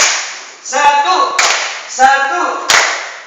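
A group of students at a TPA Quran-school training session claps once in unison on cue, sharp crisp claps spaced about a second apart and mixed with chanting voices nearby.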